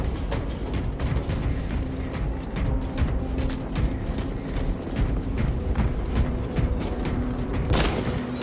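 A weapon being rearmed and reloaded in a video game, with a dense run of mechanical clicks, ratcheting and clacks over a steady rumbling backdrop, ending in one sharper metallic hit.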